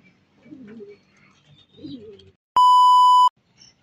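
Pigeons give two soft, low cooing calls, followed by a sharp electronic beep and then a faint call.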